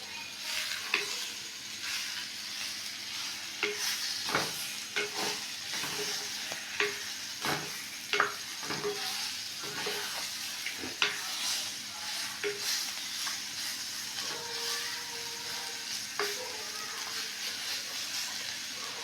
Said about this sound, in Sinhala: චිකන් මිශ්‍රණය එකතු කරලා හොඳින් කවලම් කරගන්න.